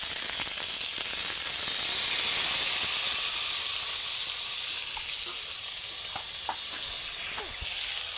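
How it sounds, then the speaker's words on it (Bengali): Chopped onion frying in hot oil in a home kitchen gives a steady, close sizzle with a bright hiss that runs through the whole stretch, with no talking. "তেল গরম করে তার ভিতরে পেঁয়াজ কুচি দিয়ে দিয়েছি। পেঁয়াজটা ভেজে নিব।"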